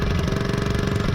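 A dirt bike engine running just after a kick start, a loud, close, steady rapid chugging throb with no voices.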